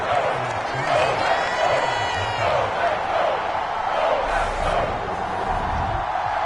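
A stadium crowd in a football video game murmurs and cheers steadily after a field goal, a broad roar sustained throughout with a commentator's voice talking over it.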